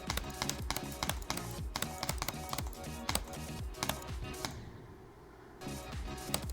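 Rapid keyboard clicks in uneven bursts and quick runs while a rhythm game called Future Funk is played, close and fairly loud over steady music, with a brief dip near the end.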